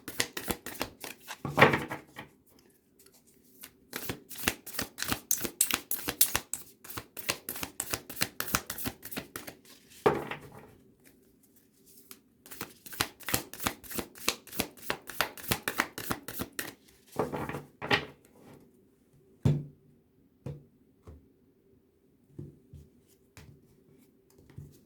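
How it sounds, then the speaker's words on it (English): A Supernatural tarot deck by Minerva Siegel and Matthew Skiff being shuffled by hand close up: rapid riffling bursts of crisp card flicks, separated by short pauses, then a few slower taps at the end. "I will do like a little shuffling and quick reading"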